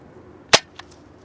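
A Hammershot dart blaster fitted with an Orange Mod Works O-tac kit fires once, a sharp close snap followed by a faint secondary click.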